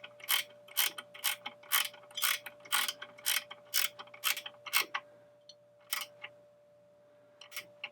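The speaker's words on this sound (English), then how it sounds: "Tighten that nut down" A wrench tightens a nut on a Harley Davidson Road Glide Ultra horn cover, giving a quick series of close metallic ratcheting clicks that slow and thin out toward the end.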